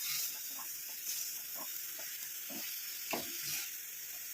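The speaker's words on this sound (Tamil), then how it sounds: "இந்த மாதிரி நல்லா கிண்டி விட்டுட்டே இருக்கணும் அப்போ தான் நல்லா கரையும்" A homemade hair dye mixture is stirred while it heats, with a steady soft sizzle and a rhythmic series of scraping strokes, close and fairly quiet, with no talking.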